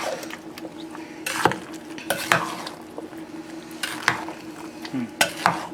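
Peach butter stirred with a spoon in a crock pot: repeated scraping strokes and occasional clinks against the ceramic pot, close and moderately quiet, in an irregular rhythm without talking.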